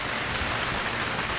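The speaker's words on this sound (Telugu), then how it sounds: "అనిల్ జిల్లా గారు పెద్ద టాస్క్ ఏంటంటే వాన కొట్టంగా కెమెరా తడవకుండా షూట్ చేయాలి." Rain pours steadily during an outdoor village song shoot, a dense, even hiss of drops striking surfaces with no voices and no pauses.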